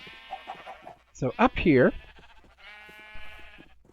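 Sheep in a farming video game give a loud, wavering bleat in the middle, framed by someone speaking softly before and after it, with a faint steady background tone.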